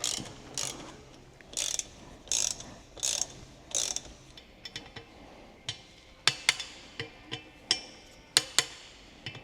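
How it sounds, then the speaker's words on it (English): Bolts on a BMW motorcycle's brake disc being tightened with a ratchet, first a series of quick rhythmic clicking runs, then sharper separate metallic clicks and taps, close up in a quiet workshop. "I'm going to wind these in, and I'm just going to nip them up before I torque them up to the recommended factory torque setting"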